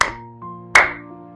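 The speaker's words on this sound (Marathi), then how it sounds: "पूर्ण हातांचे जे ॲक्युप्रेशर पॉइंट्स आहेत ते एकमेकावरती प्रेस झाले पाहिजे अशा आपल्याला टाळ्या वाजवायच्या" Hands clapped with palms pressed fully together during a morning yoga routine, two sharp close claps about three-quarters of a second apart over a sustained background tone.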